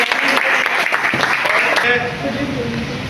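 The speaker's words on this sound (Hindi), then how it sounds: "जोरदार तालियां" Loud applause at an Amway meeting in Jhalawar, a dense burst of clapping from a crowd that drops to a softer level partway through, with a voice faintly beneath.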